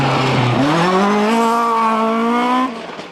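A Ford Escort Cosworth rally car races on a stage. One loud, close pass brings a rising, whining engine note that drops away abruptly at the end.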